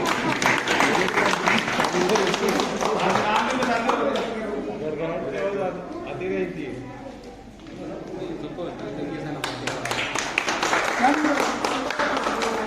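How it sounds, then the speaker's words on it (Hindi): An audience at a company New Year celebration applauds to welcome people, with dense clapping at the start, a short lull in the middle and a fresh burst near the end, while a host talks over it. "तालियों से स्वागत करते हैं।"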